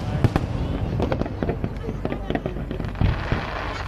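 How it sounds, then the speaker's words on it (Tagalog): Large fireworks burst repeatedly in the Netherlands in a rapid crackling barrage, loud and near, with people talking throughout. "Ang galing ng pinili nilang ano, ng pinili nilang mga fireworks. Kasi malalaki talaga siya."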